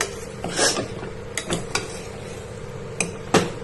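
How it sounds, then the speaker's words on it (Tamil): Spoon stirring peas, potato and rajma into masala in a pan, a few sharp clanks and scrapes against the metal, close, with gaps between strokes. "பட்டாணி உருளைக்கிழங்கு ராஜ்மா இது மூணுத்தையும் நான் சேர்த்துக்கிட்டேன் மசாலாவோடு சேர்த்து நம்ம நல்லா கலந்து"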